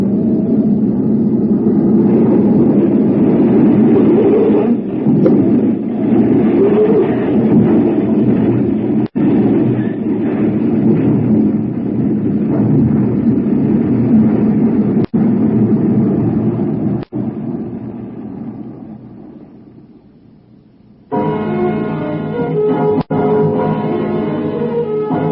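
Radio drama effect of a plane ground looping on landing: a loud, sustained roaring rumble of engine and rolling wheels with occasional clicks, which fades out and then gives way to a rattling, juddering clatter.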